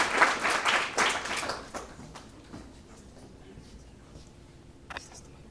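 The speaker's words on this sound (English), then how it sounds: "Big round of applause." Audience applause at the Datathon 2024 finals, a burst of clapping for roughly the first two seconds that fades out, followed by quieter room sound and a brief sharp noise near the end.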